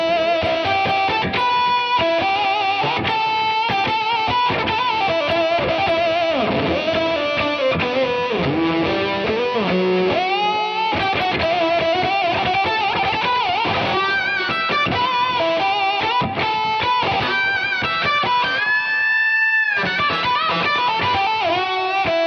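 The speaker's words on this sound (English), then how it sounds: "Multi-fuzz." Fuzzy, distorted electric guitar through a GNI Multi Fuzz pedal into an amp plays a continuous stream of notes and chords, loud and saturated with a thick buzzing edge, no voices.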